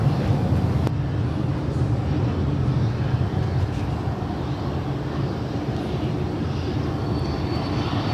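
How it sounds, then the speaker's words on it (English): Boeing 777-300ER jet roaring steadily as it takes off from a runway at LAX, a loud continuous broadband engine rumble heard at a distance with no voices. "Next departure on the south side is Singapore Airlines Flight 11, heading back to Tokyo Narita at 777-300 AR."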